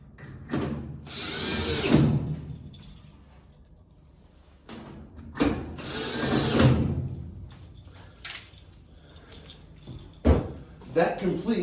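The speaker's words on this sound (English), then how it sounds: "You can start the screw by hand. And drive it in." A power drill drives a screw into a shock absorber on an Amana washing machine, model NTW4516FW1, in two loud whirring bursts a few seconds apart, with a person talking in between.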